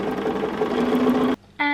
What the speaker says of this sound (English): continue sewing